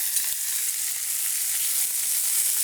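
Meat browning in a pan and being turned over, a steady close hiss and sizzle of frying with faint scraping, continuous and alone for a few seconds.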